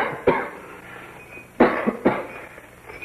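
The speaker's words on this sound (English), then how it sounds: "How long have you had that cough?" Three harsh coughs, one early and a pair close together later, sounding near in a quiet, slightly echoing cavern with nitre-covered walls.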